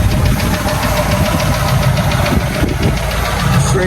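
A Ford F250 truck with a straight-pipe exhaust idles, its engine a loud, close, continuous low rumble with steady knocking pulses throughout.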